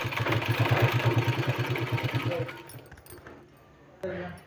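A sewing machine runs in a rapid, steady stitching rhythm for about two and a half seconds while sewing a folded seam on a blouse sleeve, then stops, leaving quiet handling noises and a brief soft clatter.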